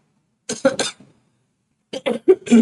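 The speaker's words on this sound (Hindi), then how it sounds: "जब मैं आप रिकॉर्डिंग देखेंगे तो खांसी बहुत तेज सुनाई देगी" Loud coughing fits during a recorded biology lecture on evolution, two bursts of harsh coughs and throat clearing, close to the microphone and separated by a brief silence.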